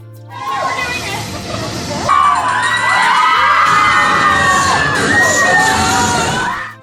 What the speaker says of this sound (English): What you hear on the ride is a recording of people screaming